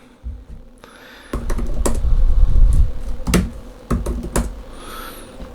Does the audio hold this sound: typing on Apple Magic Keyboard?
yes